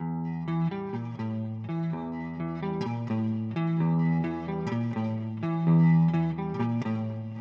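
An electric guitar played through an amp with Tone Deck impulse responses, aiming for a classic album sound, rings out in a steady distorted riff of sustained chords, loud and close with no talking.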